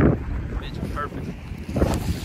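Southwest wind buffeting a commercial gill-netting fishing boat off North Carolina, gusty rushing noise over the microphone with water and hull sounds, steady with louder surges at the start and near the end.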